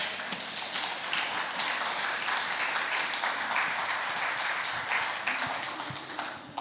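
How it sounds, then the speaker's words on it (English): A church congregation claps during an English-language evening service, dense, sustained applause filling the room at an even level, with a few louder individual claps standing out nearby. "Give a good clap offering for God tonight."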